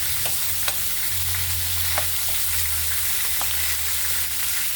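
Onion and garlic sizzle in a frying pan with a steady, close hiss of frying, broken by occasional stirring clicks and scrapes against the pan, with a low hum underneath and no talk.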